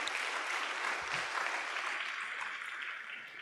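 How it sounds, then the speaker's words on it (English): Audience applauding at the launch of a network's Asia headquarters, a sustained, even clapping from a roomful of people that tapers slightly toward the end. "So another round of applause,"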